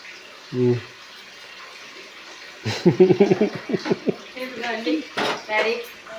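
Water runs steadily from a tap with a soft hiss, while dishes clink and a person talks nearby.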